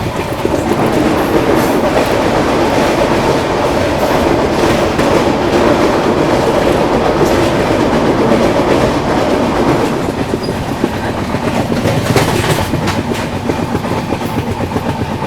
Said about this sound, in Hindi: ये गई आप लोगों की वंदे भारत एक्सप्रेस।